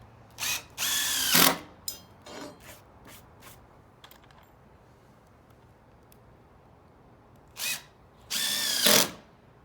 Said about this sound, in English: A little bit of downward pressure on top of your gun will keep the bit from slipping out